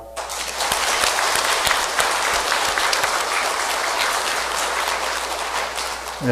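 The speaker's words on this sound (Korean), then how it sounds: "예수님께 큰 박수 부탁드립니다" Loud, sustained applause from a church congregation during an Easter vigil service, dense steady clapping filling the whole stretch without a break.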